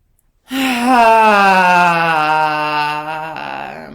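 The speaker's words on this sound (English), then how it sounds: "slowly take 3 deep breaths. So deep breath in." One long audible deep inhale of a person, steady and close for several seconds, during a guided breathing exercise with palms facing up.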